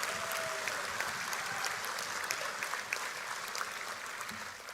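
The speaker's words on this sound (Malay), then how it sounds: "Tepukan tidak cukup kuat untuk memberikan penghargaan kepada UMNO Sabah" Sustained audience applause at an UMNO Sabah assembly celebrating the party's 30th anniversary, a steady dense patter of many hands from a large hall crowd, fairly even throughout with no voices above it.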